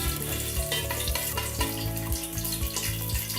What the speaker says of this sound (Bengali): গোটা মশলা দিয়ে দিচ্ছি 2 টোল দারচিনি, 5টা এলাচ, 5টা লবঙ্গ